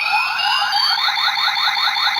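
A pulled CSM Kamen Rider Kabuto or Gatack Zecter toy gives off a loud electronic effect: a rapid, rising, chirping warble that repeats for about two seconds, close and alone.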